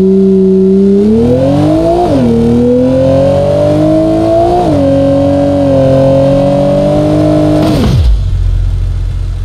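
Porsche car engine in BeamNG.drive, loud and close, revving upward in stepped climbs through gears with a strong rising tone, holding high, then abruptly cutting off to a low rumble near the end.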